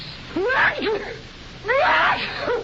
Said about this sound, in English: Those aren't ordinary sneezes. They're hay fever sneezes.